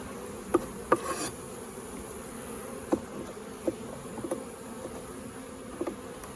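A low, steady hum of many honeybees buzzing close by in a hive during an Apiguard treatment, with occasional brief knocks and taps scattered over the drone.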